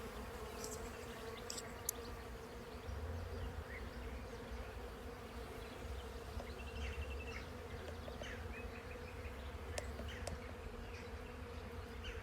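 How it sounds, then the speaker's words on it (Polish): A dense, steady buzz of many bees humming together in acacia trees, continuous and fairly faint, with no talking. "Ale tu jest jeden wielki brzęk pszczółek."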